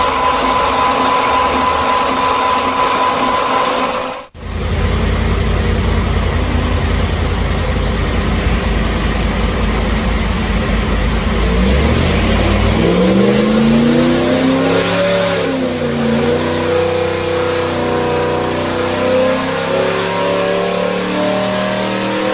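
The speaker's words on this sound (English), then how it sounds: "So very strong sounding engine" A powerful Ford 302 tunnel port V8 engine idles with a deep, steady rumble, briefly cuts out, then revs up repeatedly in strong surging bursts.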